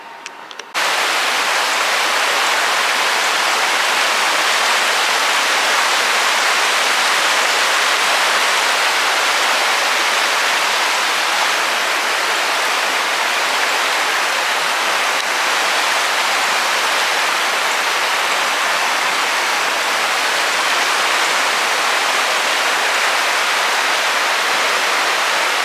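A creek flowing behind a motel in Maggie Valley, North Carolina, a loud, steady broadband rush of water that continues unbroken for the whole stretch, heard alone without voices.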